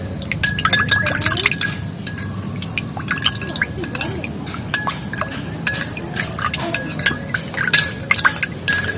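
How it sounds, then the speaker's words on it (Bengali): A hair mask mixture being beaten briskly in a bowl, with rapid clinking and wet sloshing strokes that run steadily throughout, close up, over a low background hum. "আর সব কটা যে জিনিসগুলো দিয়েছি সেটা কিন্তু এইভাবে ভালো করে ফেটে নেবো।"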